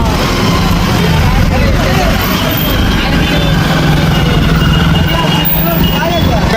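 Road traffic in Siwan town, a loud dense wash of engines and road noise heard from among the vehicles, with people talking nearby.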